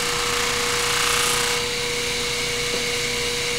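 A spinning buffing wheel charged with white diamond compound polishes clear plastic, producing a loud, steady motor whine and broad rushing friction that eases after a moment. No one speaks.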